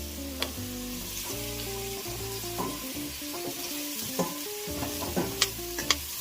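Chopped rosemary, thyme and an Italian herb blend fry in a soup pot, a soft steady sizzle with light stirring clicks and scrapes, close by, with no talking.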